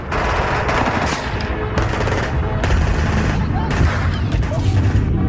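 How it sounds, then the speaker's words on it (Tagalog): Rapid bursts of silenced rifle fire pour out in a dense, continuous barrage during a zombie attack, loud and close with booming impacts throughout. "Sunod-sunod na putok ng silence rifle ang pinakawala ng grupo at inulan sila ng bala."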